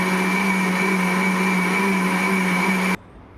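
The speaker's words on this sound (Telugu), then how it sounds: "ఇప్పుడు దీన్ని మిక్సీ చేసేసుకోవాలి." A mixer grinder whirs loudly and steadily, blending banana pancake batter made with sugar and milk, then cuts off abruptly near the end, leaving a quiet room.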